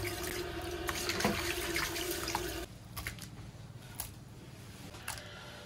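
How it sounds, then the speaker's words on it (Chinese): Tap water runs over a piece of raw beef in a kitchen sink, a steady close splashing rush that drops to a softer trickle partway through. "把这个牛肉洗一下，等会儿先腌上。"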